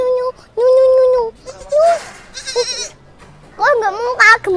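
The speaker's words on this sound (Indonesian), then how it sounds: "Dia kambing." Young goat bleating several times in drawn-out, wavering cries, close and loud, with people talking around the calls.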